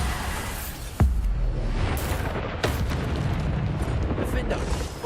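Bombarda spell blasts in Hogwarts Legacy PC gameplay, sudden booming bursts over a dense, continuous rumble of game effects and clatter, loud and full throughout.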